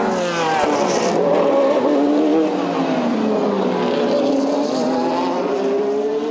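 Several race cars roar past at high speed around 8 a.m. during an endurance race, engines screaming and shifting pitch as they sweep by close, loud and continuous with no talking.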